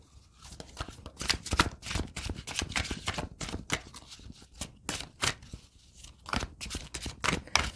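Tarot cards shuffled for a reading, a rapid series of crisp riffling and slapping bursts, close and fairly loud, repeating throughout with no voice.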